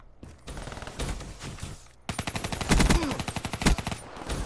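Rapid automatic gunfire from the player's own gun in Black Ops 3, loud and close, a dense stream of shots in quick bursts with a short gap, no talk over it.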